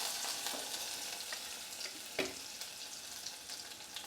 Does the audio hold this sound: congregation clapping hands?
no